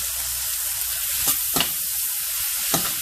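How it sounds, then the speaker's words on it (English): Mushrooms and half a julienned onion saute in butter in a pan, giving a steady, close sizzle with a few soft stirring scrapes and no talking. "saute your mushrooms in the butter. Then as that goes, you want to add your onions"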